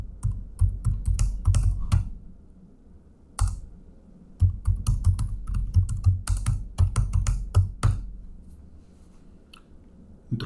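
Computer keyboard typed on in quick irregular bursts of close, crisp key clicks, with short pauses between runs of keystrokes.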